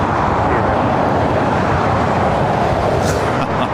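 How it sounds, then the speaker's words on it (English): Delta Airlines Airbus A321 jet at LAX airport, a loud broad continuous engine roar close by, steady throughout with faint higher whine near the end. "This is Delta Airlines Flight 1340 heading to Minneapolis in an A321."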